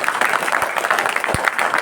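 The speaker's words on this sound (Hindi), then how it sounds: "उनके लिए तो ताली आपको बजाएं" An audience at an RCM business seminar in Berhampore claps together in dense, continuous applause, a brief burst of many hands filling the hall.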